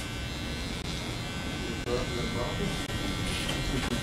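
A BaByliss Pro hair clipper trimming the edge of a hairline, a steady close electric buzz that runs continuously with brief dips, under a person talking.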